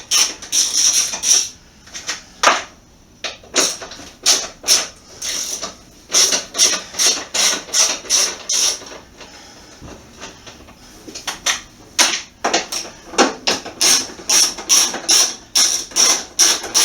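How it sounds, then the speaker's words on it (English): A hand ratchet with a 10mm socket loosens bolts on a scooter, producing loud, close bursts of rapid clicking separated by short pauses, repeated many times. "We'll be using a 10mm socket as before. Just pop out these 4 bolts."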